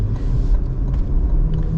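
A 2026 Cadillac CT5-V Blackwing V8 engine gives a steady, deep low rumble that runs without a break, close and fairly loud, with no voices over it.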